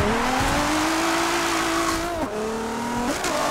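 A Nissan G35 drift build in Forza 7 holds its engine at a sustained high rev, dipping and climbing twice as the clutch is kicked. A continuous tire squeal runs loud and close underneath.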